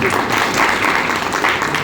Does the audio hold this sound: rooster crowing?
no